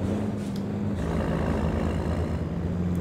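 A modded VW Titan truck engine in Euro Truck Simulator 2 gives a steady, loud, low droning roar from start to finish, with no talking.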